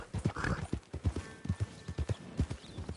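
Horse hooves clip-clopping in the Red Dead Online video game, a steady close rhythm of hoofbeats with a faint tonal whine in the background and no talk.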